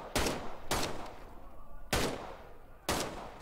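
A heavy-recoil gun in the video game Medal of Honor: Above and Beyond fires four loud, evenly spaced booming shots, each followed by a rumbling decay.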